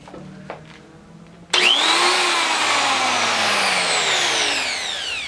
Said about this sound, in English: But for now, I'm going to use a die grinder